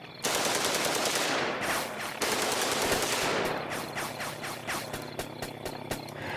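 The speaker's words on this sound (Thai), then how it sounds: "เสียงปืนรัวที่ยิบออกมาจากปากถ้ำ" Sustained bursts of rapid machine gun fire ring out from the mouth of a cave at an aircraft overhead, loud and dense for several seconds and trailing into sharper separate shots.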